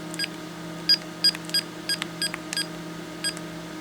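Keypad beeps from a vintage Sony CM-H333 mobile phone as numbers are typed in: about ten short, bright electronic tones at an uneven pace. They sit close and clear over a steady low hum, with no talking.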